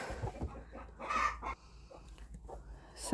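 Broody hens cluck and grumble in low, uneven calls close by in a henhouse, with a few louder squawks.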